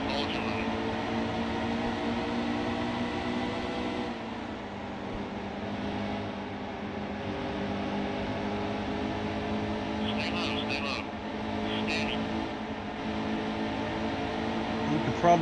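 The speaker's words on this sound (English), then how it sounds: "Hopefully you can hear me having to throttle the car quite a bit." A steady NASCAR engine drone in the video game NASCAR Heat 2 at Darlington, with a stack of harmonic lines throughout, the pitch shifting slightly as the throttle changes, loud and continuous.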